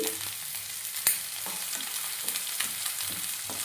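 Sliced onions and green chillies fry in hot oil, a close, even sizzle with a few sharp spatula clicks and stirring scrapes over a few seconds.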